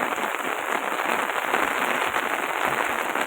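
Heavy rain driven by strong wind pours down in Rajula as a dense, steady roaring hiss with no break and no voices.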